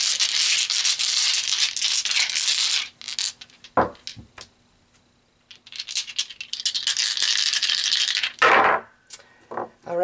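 Death tarot dice rattle and clatter in two long bursts of close, dry clicking, with a few sharp knocks and a quiet pause between them.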